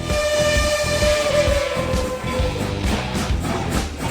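Union Pacific 844 steam locomotive passing close and loud, a dense rumbling roar with a rhythmic chuffing pulse and a sustained high whistle tone riding over it throughout.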